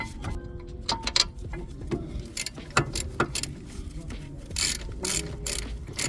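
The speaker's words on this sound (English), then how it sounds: "So I'm just tightening the caliper brackets." A ratchet tightening the caliper bracket bolts on a 2013 Ford Focus ST-2 during a front disc and pad job, close rapid clicking in uneven bursts mixed with metallic clanks of tools.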